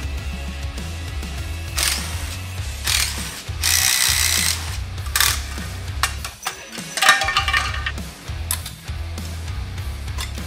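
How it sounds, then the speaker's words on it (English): A breaker bar ratchets and clicks against crusty, stuck bolts on a motorcycle engine's clutch cover, with repeated mechanical ratcheting over a low hum, plus bursts of metallic scraping and knocking. "Gonna have to get a breaker bar on this thing."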